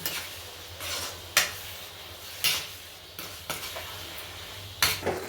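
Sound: mixing and frying dry fruits in carrot halwa in a pan

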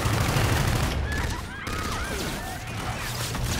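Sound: gunfire in Call of Duty Infinite Warfare video game

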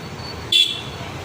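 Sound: heavy road traffic with car horns honking

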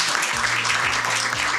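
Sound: audience applauding and cheering for a Member of Parliament

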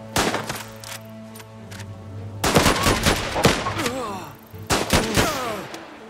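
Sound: machine gun firing in the video game Last Train Home

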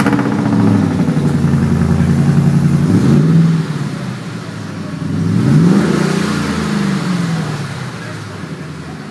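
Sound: pickup truck engine revving

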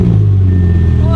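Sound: twin turbo Audi R8 engine starting with new exhaust

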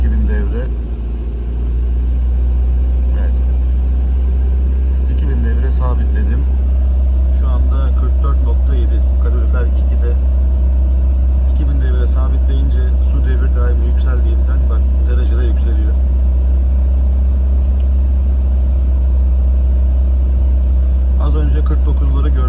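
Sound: Opel Tigra car engine held steady at 1500-2000 rpm

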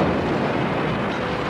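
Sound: car bomb explosion in central London

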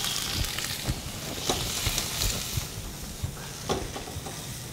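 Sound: shrimp frying in hot sesame oil in a pan

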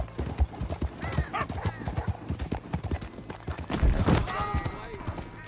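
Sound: horse hooves clip-clopping in video game

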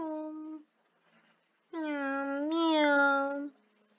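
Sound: voice imitating a cat meowing

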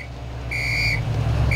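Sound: person whistling

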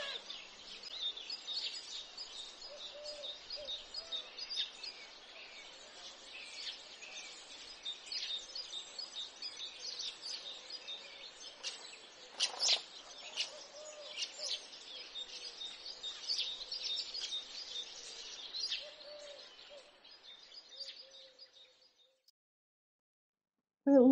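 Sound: birds twittering

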